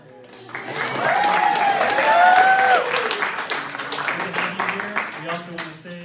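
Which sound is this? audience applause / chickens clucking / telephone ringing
audience applause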